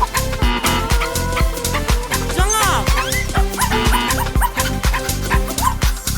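A dog barks in a quick run of yips within a bouncy children's nursery song, with music and sung parts carrying on around the barks.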